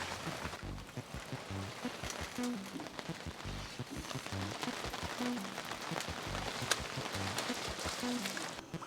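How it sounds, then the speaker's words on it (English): Rain patters steadily on a boat during a storm, a dense continuous hiss of drops with some low thumping throughout. "Here comes the rain."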